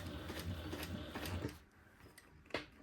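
A sewing machine stitches along the fold of a tote bag in a quick, quiet run of mechanical ticks before slowing and stopping.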